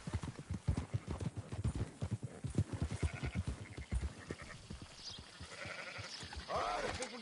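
Horse hooves clip-clop steadily and close among a herded flock of sheep in Red Dead Redemption, with scattered bleats rising near the end.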